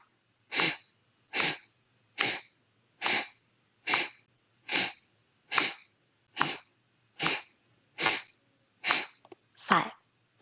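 A person breathes out in rapid, forceful bursts through the nose during a yoga breathing exercise, about a dozen sharp, evenly spaced puffs close to the mic with silence between them.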